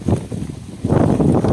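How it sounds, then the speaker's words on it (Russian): Strong wind gusting across an open oat field, a loud broadband rush that buffets the microphone, easing briefly before surging again, with no voices heard. "Сейчас такое ветрище вообще."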